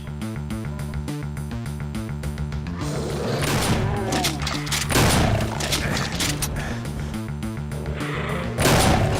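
Enemy gunfire rips through a Doom mod game over a steady pulsing music track, bursts of shots and thuds building from about three seconds on and staying loud to the end.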